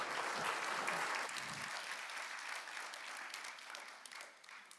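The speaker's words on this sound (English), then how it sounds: "because it's an orchestra, they deserve more than a single clap, right?" An audience applauds an orchestra at a conference opening ceremony, the steady wash of clapping filling the whole stretch and slowly easing off toward the end.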